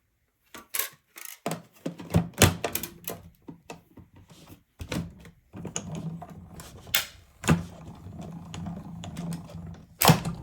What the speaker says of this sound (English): we're going to run that through the Stampin' Emboss machine. Stampin' Cut and Emboss. And we're going to cut out our next frame